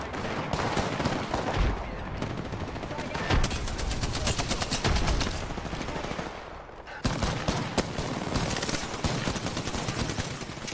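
Rapid bursts of gunfire from an Apex Legends battle royale match, dense overlapping automatic shots and single cracks sustained loud throughout, with brief pauses and sharp impacts.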